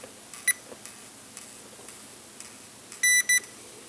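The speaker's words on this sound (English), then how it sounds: "use my meter in continuity mode, which makes little beeps" A multimeter in continuity mode, used while building a temperature, light and ohms kit from Chaney Electronics, gives one short beep early on and then a longer beep followed by a quick second beep, over a quiet hum.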